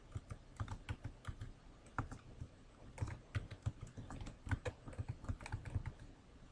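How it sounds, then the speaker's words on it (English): Typing on a computer keyboard while entering data into a spreadsheet, quick irregular clusters of close, soft key clicks with short pauses between bursts. "let me type that in column H"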